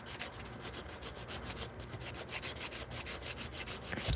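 Acrylic nail base filed with an 80 and 100 grit nail file: quick, even back-and-forth rasping strokes, about four per second, close and steady with no talking.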